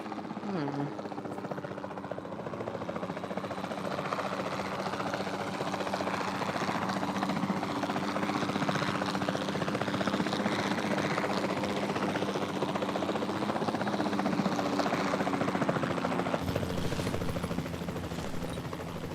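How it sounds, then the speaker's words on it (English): Capture team helicopter in the video game Jurassic World Evolution 2, a loud continuous rotor and engine drone filling the whole stretch, with game effects layered over it. "Then the sensible thing is to take a capture team helicopter."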